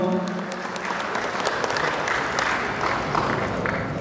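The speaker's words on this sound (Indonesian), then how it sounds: "Kita iringi juga dengan tepuk tangan Bapak Ibu semua" An audience of officials and guests at a Palembang ceremony applauds steadily while a medal is hung on a village officer, a continuous wash of many hands clapping at moderate distance.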